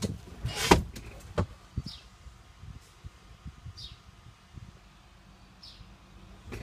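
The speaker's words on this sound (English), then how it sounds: "power windows and locks." Power windows on a 2007 Peterbilt 357 heavy-haul truck: faint, brief motor whirring inside a quiet cab, with a couple of soft thumps early on and light rustling.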